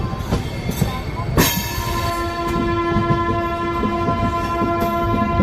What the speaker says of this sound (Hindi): आगे खूबसूरत सा कर्व के साथ अपनी ट्रेन निकल रही है।